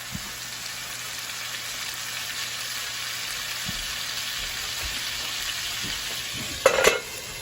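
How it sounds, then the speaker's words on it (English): Ground beef fries in flavored oil with a steady, even sizzle throughout, a few soft scrapes and taps from stirring, and a brief louder clatter near the end. "Now we're going to add some ground beef."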